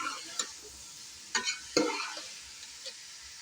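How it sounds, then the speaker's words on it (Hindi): Cauliflower being stirred into frying masala in a pan, a few scraping stirs and clacks of the spoon over a low, steady sizzle, close and fairly quiet, with no talking. "फूल गोभी मैंने इसके अंदर जो है ना डाल दिया, अभी हम इसे अच्छे से मिक्स कर देते हैं"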